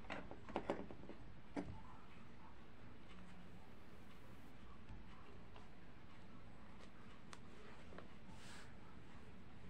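Sewing machine stitching fabric for a skirt pocket, a quiet continuous mechanical whir with a few faint clicks near the start, distant and low in level.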